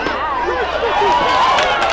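Crowd of roughly 400 students at a high school baseball game, a steady, loud murmur of chatter and shouting voices filling the background with no single voice standing out.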